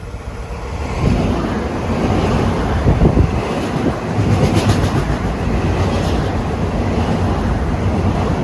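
An LIRR MU electric commuter train rolls past New Hyde Park station during the morning rush, a loud, steady rumble of wheels and cars with wind buffeting the microphone, sustained from start to finish with no talk.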